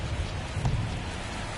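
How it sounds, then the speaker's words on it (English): Steady rain falls on a baseball field during a game, a dense broadband hiss with low rumbling underneath, continuous and fairly loud with no voices. "the field's not going to be able to hold up if the rain gets any worse than this"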